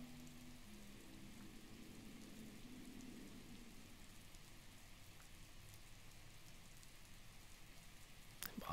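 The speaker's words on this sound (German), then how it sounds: "Ernsthaft jetzt warten, bis der Regen aufhört." Rain falls steadily in the video game The Legend of Zelda: Breath of the Wild, a soft, even patter with a faint low rumble underneath, quiet and continuous with a sharp click near the end.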